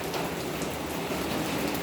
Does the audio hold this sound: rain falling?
yes